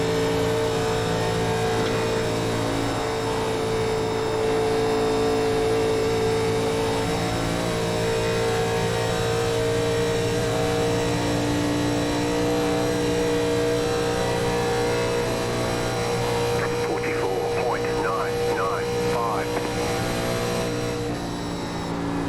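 Engines of 1987 NASCAR stock cars droning steadily around Daytona International Speedway in iRacing, a loud, sustained near engine tone with shifting pitch as it holds speed, with no talk.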